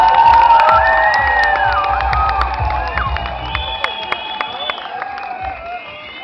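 An audience at a costume contest cheers and applauds for a contestant dressed as Castellana, loud crowd whoops, children's shouts and clapping mixed with lively voices, fading slightly toward the end.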